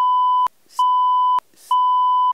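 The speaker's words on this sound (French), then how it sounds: "ça bip." TV-style censor beeps, three steady electronic tones, each cut off sharply, loud and alone, with short gaps of near silence between them.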